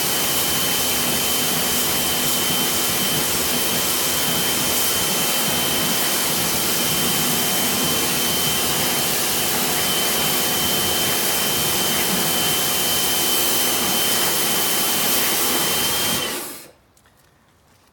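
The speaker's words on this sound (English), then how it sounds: "give it a quick high pressure wash with my Karcher." A Karcher high pressure washer spraying a car's brake-dust-covered wheels, a loud, steady hissing roar held close for about sixteen seconds before cutting off abruptly to near silence.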